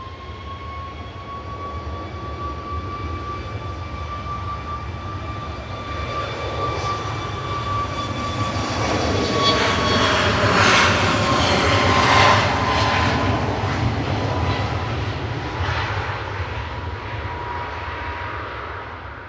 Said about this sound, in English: That was Ryanair flight 4116 heading over to Murcia on the Costa Blanca.